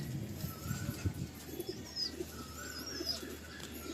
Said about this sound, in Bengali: এই পায়রাটা অলরেডি ডিম দিয়ে দিয়েছে, এটা হচ্ছে ফিমেল